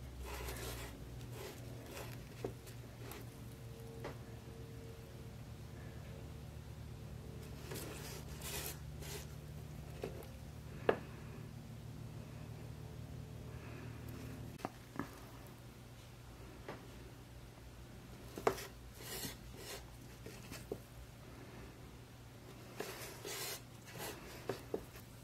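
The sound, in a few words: drawing lines with a fine liner pen on a painted tea bag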